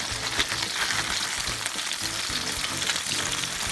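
Top sirloin beef strips fry on a low-temperature grill, giving a steady, close hiss of sizzling fat with soft crackles running throughout and no voices.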